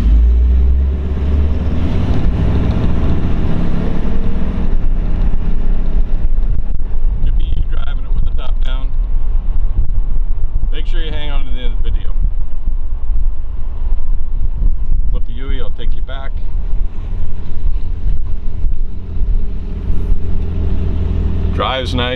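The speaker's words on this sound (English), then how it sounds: "I figured I'd take it for a little drive and show you. We're just gonna go down the street." A 1968 Shelby GT500 convertible drives down the street with a low engine rumble and heavy wind buffeting the microphone throughout, while someone talks over it in several short bursts.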